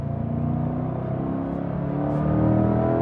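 Chevrolet Corvette C8 sports car engine running steadily while driving on European roads, a loud, continuous low rumble with a slight swell toward the end, no talking.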